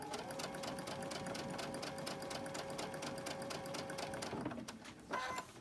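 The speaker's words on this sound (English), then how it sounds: "I'm going to sew this." A sewing machine stitches quilt fabric for a pine-tree block in a steady, close whirring run, then slows and stops near the end with a short clatter.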